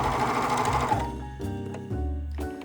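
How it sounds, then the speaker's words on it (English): A serger overlocks the edges of a sleeve opening on a knit bodysuit, a steady close mechanical whir that shifts in speed in a few distinct stretches, with no talk. "Serge the edges of the sleeve opening."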